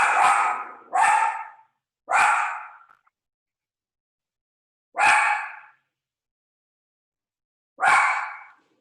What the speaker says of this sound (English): There's my dog